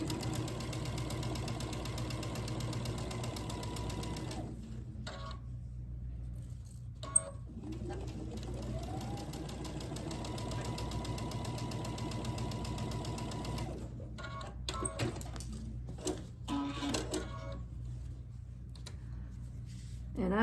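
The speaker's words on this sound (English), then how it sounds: "I'm gonna take it to the sewing machine and I'm gonna sew all the way down this side." A sewing machine stitching fabric runs in steady bursts, its motor humming and needle whirring continuously, pausing briefly twice before starting up again; close and fairly loud.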